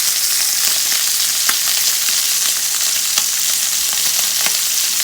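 Sausage sizzles steadily as it cooks down in a pan, a dense, loud, continuous frying hiss with faint crackles and no talking.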